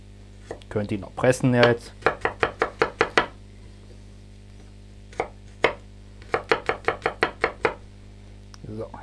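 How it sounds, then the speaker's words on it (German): A knife chops garlic on a cutting board for goulash soup, sounding as steady rhythmic knocks in two bursts with a short pause between them, close and clear, while a voice speaks briefly in the background. "Knoblauch schneiden wir ein bisschen klein"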